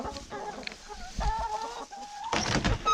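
Hens clucking in a henhouse during winter cleaning, several birds giving short broken clucks and pitched calls in a close, busy cluster, with a louder burst of cackling near the end.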